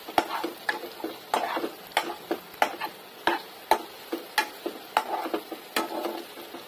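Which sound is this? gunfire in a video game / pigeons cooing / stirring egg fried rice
stirring egg fried rice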